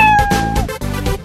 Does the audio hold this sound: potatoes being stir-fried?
no